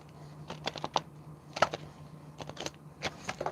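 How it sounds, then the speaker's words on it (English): Playing cards shuffled with one hand, a run of soft, quick riffling clicks and flutters in short bursts, close and fairly quiet with no talking. "See if I can shuffle with one hand, huh?"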